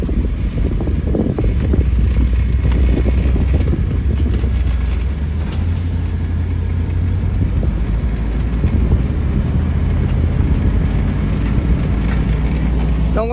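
A 1993 Chevy G20 work van with a 5.7 engine drives along with its alignment slightly off, giving a steady, loud low engine and road rumble mixed with cabin wind noise throughout.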